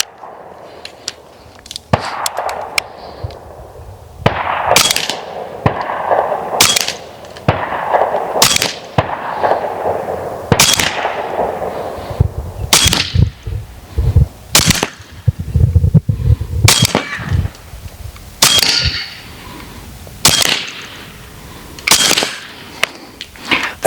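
An AEA SF .30 caliber airgun fires 49.5 grain slugs from belt-fed magazines, a series of sharp, loud close cracks spaced a second or two apart with bolt-cycling clicks between shots.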